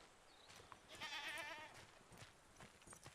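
A goat in the video game Mundaun gives a single wavering bleat, fairly close and clear over a quiet hissing ambience.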